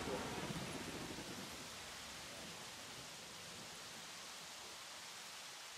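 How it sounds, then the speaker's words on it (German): Light rain falling in the dinosaur park-building video game Jurassic World Evolution, a steady soft hiss of fine noise that stays faint and even throughout, with no voices heard. "Wir haben leichten Regen."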